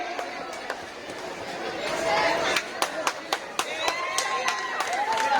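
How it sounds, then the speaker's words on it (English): Scattered hand claps rise and thicken for a teacher at a school Teacher's Day celebration, sharp and fairly close over a steady murmur of crowd chatter. "Huge round of applause for Kaushik sir"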